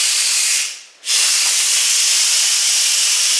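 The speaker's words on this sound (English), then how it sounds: "So it's releasing all the steam that built up in the pressure cooker." Instant Pot pressure cooker venting steam in a quick release: a loud, steady hiss that dips briefly near the start, then returns and holds at full strength.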